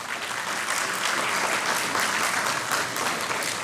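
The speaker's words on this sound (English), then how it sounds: "with a loud round of applause." Loud, dense audience applause welcoming a speaker at a formal event, a continuous hiss of many hands clapping at steady volume from start to finish.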